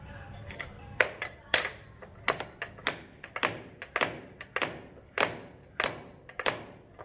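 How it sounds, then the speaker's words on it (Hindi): Hammer striking pieces into the ground in a steady series of sharp, close metallic knocks, about two per second, with no talking. "हथौड़ी का भी देखिए उपयोग कर रहे हैं"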